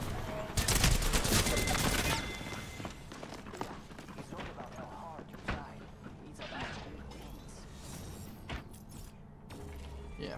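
Shotgun blasts and other gunfire from an Apex Legends 9v9 Control match burst loudly at first, then thin into scattered shots and mechanical clatter as a player talks throughout.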